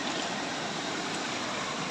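Floodwater rushes along a river swollen by heavy rain, a steady broadband roar with no pauses, fairly quiet and heard from a short distance with no voices.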